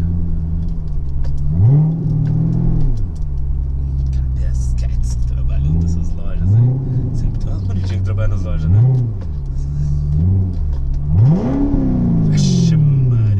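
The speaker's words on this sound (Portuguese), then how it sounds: "Acelerador causando." A Corvette engine revs repeatedly while driving through a city centre, giving deep rising and falling surges with a throaty rumble throughout, loud and close, while people talk over it.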